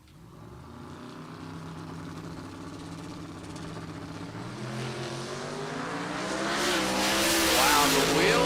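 A bright yellow 1998 Pontiac Trans Am launches at a drag strip, its engine roaring continuously and building louder as it pulls away down the track, with a rising, harsh exhaust note near the end.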